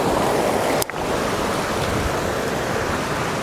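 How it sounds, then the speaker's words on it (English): Fast-flowing river water on a hiking trail rushes in a dense, continuous roar, close and loud, with a brief knock or bump near the start. "water is moving it's just too fast for me to cross, too dangerous"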